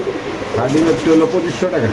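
Pigeons at a pigeon farm, including a Pakistani pigeon, coo in low, throaty, repeated calls close by, with voices mixed in among the birds.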